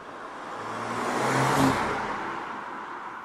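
A 2023 BMW M340i sedan in sport shifting mode accelerates hard, its engine note swelling to a loud peak midway and then fading, a single smooth pull heard without any talk.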